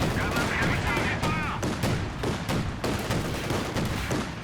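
Flakpanzer anti-aircraft gun in Company of Heroes 2 fires rapid repeated bursts at a unit behind heavy cover such as a tank wreck, a dense rattle of shots with battle noise and music underneath, steady and loud throughout.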